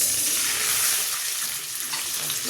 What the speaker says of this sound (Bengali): আমি একটুখানি পানি দিচ্ছি